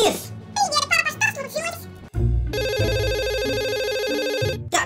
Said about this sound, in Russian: у меня телефон звонит